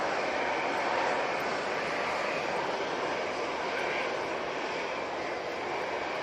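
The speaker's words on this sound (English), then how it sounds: "we've got the ST Aviation Embraer Phenom 300 coming in from, I'm guessing, La Rochelle" An Embraer Phenom 300 business jet comes in to land, its engines a steady, loud, unbroken roar that fills the whole moment.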